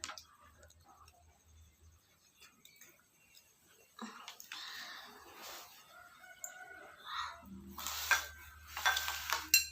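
Chickens cluck nearby, short fowl calls popping up through the second half, loudest toward the end, while people talk and murmur quietly in the background.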